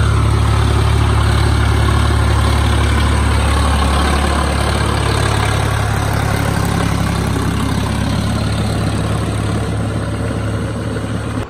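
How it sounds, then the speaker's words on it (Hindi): A tractor engine runs steadily in a water-filled paddy field during rice transplanting, a loud continuous low diesel drone with no break and no voices throughout. "आइए खेत की तरफ चलते हैं जहाँ ट्रैक्टर चल रहा है।"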